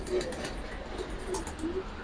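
Pigeons at a sale of Giribaz, Military and Lalpaoti breeds give soft, low coos several times over two seconds amid background murmur, with someone talking nearby.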